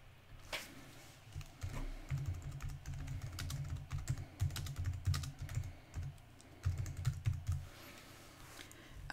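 Typing on a computer keyboard, a steady run of quick, close key clicks in uneven bursts with short pauses, over a low background hum and no talk.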